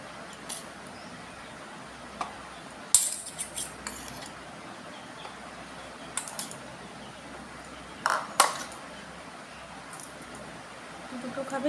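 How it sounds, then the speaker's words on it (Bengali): A small spoon scoops flattened rice (chira) into a bowl, making scattered light clinks and scrapes at close range, with a few sharper taps, over quiet background between strokes. "এবার একটা ছোট চামচ দিয়ে চিড়েটা বোলের মধ্যে ভরে নেব"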